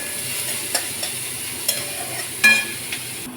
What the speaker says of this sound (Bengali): পেঁয়াজটা একটু নরম হয়ে যায়, ভালো করে ভাজা হয়ে যায়